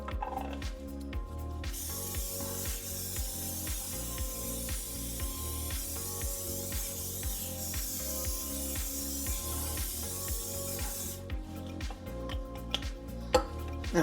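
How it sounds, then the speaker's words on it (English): Spray butter is sprayed onto a turkey being prepared for smoking, heard as a long steady hiss over a repeated rhythmic ticking, close and moderately loud. "So what I do to make the seasoning stick, I use the spray butter."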